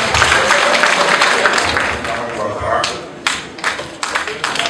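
An audience at a French political rally for Alassane Ouattara's RHDP claps and cheers, the applause swelling then breaking into scattered claps, with voices mixed in.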